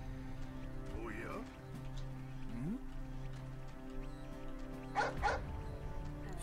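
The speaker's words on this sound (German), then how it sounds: "Finde ich süß, den Hund." Dog in Way of the Samurai 3 giving a couple of short yips and whimpers amid steady game background music, with a brief louder bark burst near the end; no talk over it.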